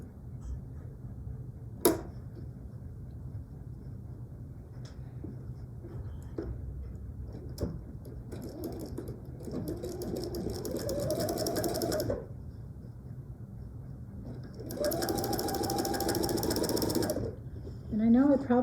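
Sewing machine stitching faux piping binding onto a quilt, running in two steady bursts of rapid whirring with quiet pauses between, near and fairly loud, with faint talk in the background.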